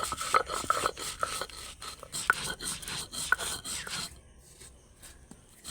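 Spices being ground by hand on a stone slab with a grinding stone (shil nora) make soft rhythmic rubbing and scraping, close and fairly quiet, with small clicks as the stone rocks, fading near the end.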